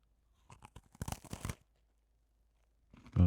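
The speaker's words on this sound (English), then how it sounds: "Package opening." A package of Sour Patch Oreo cookies is torn open: a few light crinkles, then a dense burst of plastic tearing and rustling up close, a pause, and another short crinkle.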